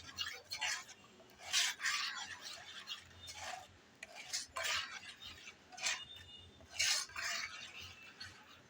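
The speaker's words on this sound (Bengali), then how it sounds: "এখন সবগুলো মশলা আমি আলতোভাবে এভাবে নাড়িয়ে দিলাম ভালো করে মিশিয়ে নিলাম" Spices being stirred gently in a bowl for steamed hilsa (ilish bhapa), a rhythmic series of raspy scraping strokes in bursts, close and moderately quiet, with no talking.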